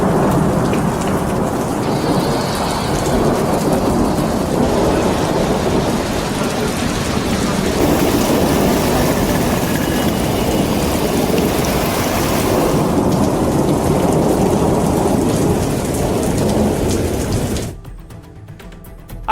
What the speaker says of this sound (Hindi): कई दिन बाद आज झमाझम बारिश हुई है, जिससे लोगों को गर्मी से राहत मिली।